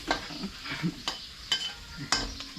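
Pork cracklings fry in a pan with a steady sizzle, broken by a few scraping stirs and sharp clinks of a utensil against the pan, close and fairly quiet.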